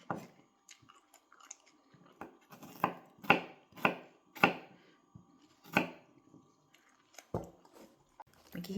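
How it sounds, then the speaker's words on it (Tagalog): A knife chops carrots into cubes on a board, a string of sharp crisp thuds at an irregular pace, some louder and closer than others, with brief quiet gaps between strokes. "Maghihiwa naman tayo ngayon, no?"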